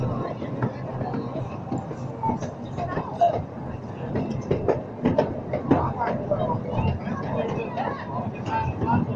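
Amusement park train ride rolling along its track, a steady rumble with rattling wagon clatter heard from on board, while a recorded voice announcement talks over the running noise.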